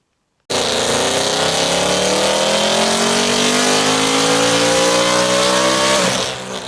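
A supercharged 2018 Ford Mustang with a Whipple supercharger roars on a dyno in sixth gear, its engine note climbing steadily for about five seconds. The sound is loud and close, then cuts off sharply near the end.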